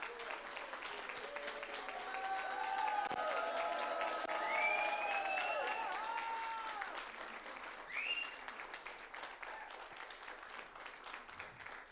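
Prolonged audience applause at a business chapter meeting in Nelamangala, Bangalore, steady crowd clapping with voices and tonal sounds layered over it, swelling and then easing off.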